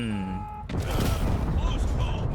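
World of Tanks Blitz tank cannon fire: after a short voice, a sudden booming blast hits and a heavy low rumble of explosions carries on.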